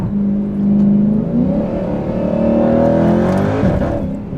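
Widebody Dodge Challenger Hellcat Redeye accelerating at part throttle, a loud, steady engine drone with rising harmonics that swells, levels off and climbs again before easing, heard from inside with no talking.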